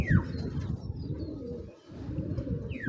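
Pigeons coo steadily and close by, a dense low rolling murmur that runs throughout with one brief lull, faint chirps sitting above it.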